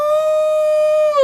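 A person's voice imitates an elephant trumpeting with a single sustained, steady high-pitched tone, loud and close, held for over a second without talk.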